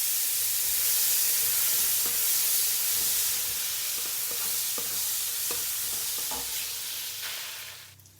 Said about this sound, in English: I will start cooking by frying the salted fish first.